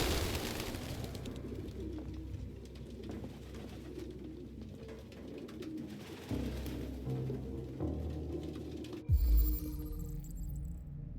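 Pigeons coo steadily and softly in a room in the video game Detroit Become Human, a low murmuring layer that runs throughout over a dull background, with a thud near the end.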